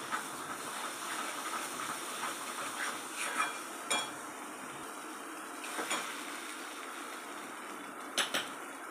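Onion, coriander and tomato paste sizzle as they roast in oil in a pan: a steady, even frying hiss with a few light metallic clinks.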